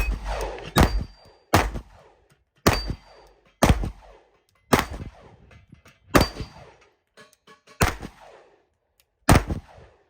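9mm pistol fired at an outdoor range, about eight single loud shots at a slow, steady pace, each with a sharp crack and a short echoing tail.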